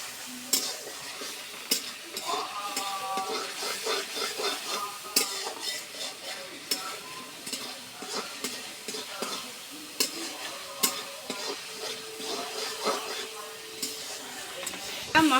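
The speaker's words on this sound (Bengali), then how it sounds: "চিংড়ি মাছগুলো একসাথে কষে নেব।" Prawns stir-fry with masala in a pan, a continuous close sizzle with repeated scraping and tapping of a spatula as the pieces are tossed, and a voice speaks faintly underneath.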